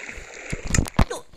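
Water splashes in the video game Minecraft as a few quick, close bursts of splatter within a second and a half.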